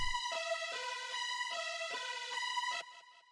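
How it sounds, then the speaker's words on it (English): A bright, buzzy supersaw synth built from a piano sound, playing sustained chords in an electronic undead-themed track, with rhythmic phrases repeating about every half second before cutting off near the end; no voices. "I made a supersaw of the same piano, the one that you know from the zombie track."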